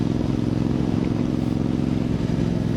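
Voge 625DSX motorcycle fitted with a Scorpion aftermarket exhaust, a loud, close, steady deep engine drone held at constant revs throughout, with no talk.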